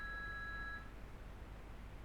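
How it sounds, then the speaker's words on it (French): A telephone rings with a short electronic tone, faint and somewhat distant, cutting off after under a second and leaving quiet room noise. "le téléphone qui sonne"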